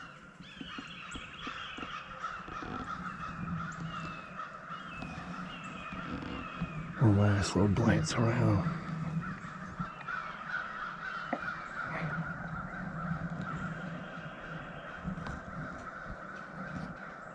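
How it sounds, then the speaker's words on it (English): Crows caw repeatedly in the distance at a foggy sunrise, a noisy burst of calls standing out over steady outdoor ambience while someone speaks quietly. "I hear the crows going crazy."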